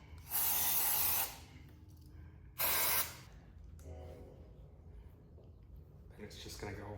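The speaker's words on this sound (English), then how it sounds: "now I'm going to use some carb cleaner to just spray it off inside here" Carburetor cleaner sprays into a sailboat winch drum in two loud aerosol hisses, a long burst then a shorter one, with some quiet talk and handling noise afterward.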